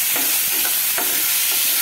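Boiled chickpeas hit hot mustard oil with cumin in a pan, making a loud, close, continuous sizzle and crackle with a few stirring scrapes and no voices.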